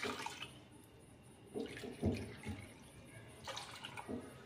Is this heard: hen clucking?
no